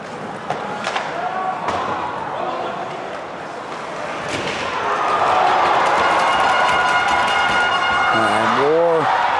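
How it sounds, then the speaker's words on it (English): College hockey crowd, SDSU at Oregon, swelling into a loud roar after a big collision on the ice, with a sharp board-slam thud early and a commentator talking over the noise. "Big collisions gets the crowd going a little bit."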